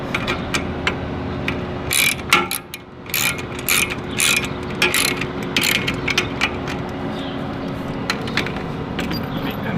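A ratchet clicks rapidly in bursts as bolts are tightened on a Swagman upright roof-mount bike rack. The metallic ticking is close and comes in quick runs with short pauses between them, and no one talks.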